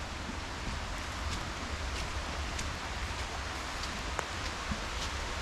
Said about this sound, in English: Rain's coming on heavy now.